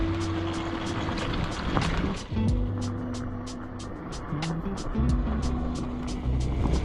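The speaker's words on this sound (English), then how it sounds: "Me and the lovely Sharonda out here on the electric dirt bikes" Electric dirt bikes cruising outdoors, giving a steady motor whine with rising and falling tones over strong wind rush, close and continuous with no talk.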